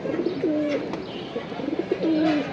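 Pigeons coo in repeated soft, rolling phrases at close range while a silver-necked male pigeon is held and shown, with faint chirps and handling noise around them.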